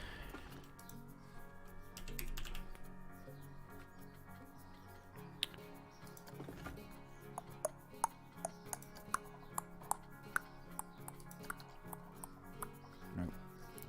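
Sparse clicks from a computer keyboard during play of a park-building game, scattered single taps growing more frequent toward the end, sitting faintly beneath ongoing talk and low background sound.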